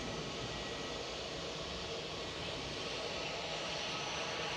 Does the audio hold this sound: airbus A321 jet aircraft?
yes